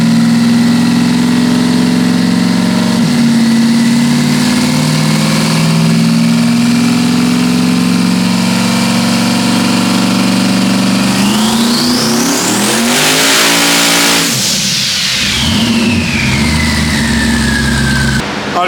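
On a dyno, a twin-turbo Dodge Demon idles loudly, then climbs in one long full-throttle pull, the engine note rising steeply to a peak before dropping away as the run ends.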